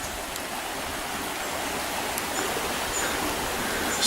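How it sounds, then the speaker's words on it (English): Rainwater from a heavy shower runs down an unsealed bush track road, giving a steady, even hiss of flowing water with a few faint drips, close and alone without any talk. "we've only just had a heavy shower and the water's flowing down the road again"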